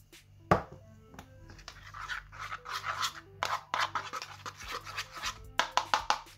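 Slime being stirred and squished with shaving foam, a run of close, soft sticky squelches and scrapes in irregular bursts, with a low steady hum underneath.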